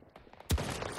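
A single loud gunshot cracks out in Battlefield 2042, sharp and close, leaving a lingering echoing tail after quieter background sounds.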